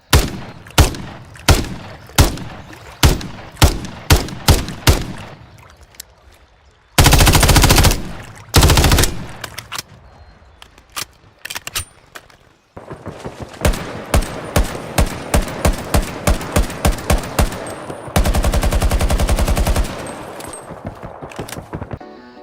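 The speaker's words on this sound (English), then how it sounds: "The gunshots are too damn realistic." Video game gunfire from a Battlefield or Call of Duty style shooter: loud, close single shots in a rhythmic series, then dense bursts of automatic fire, pauses, and more rapid volleys.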